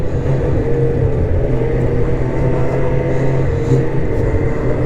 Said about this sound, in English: oh, that new little engine, man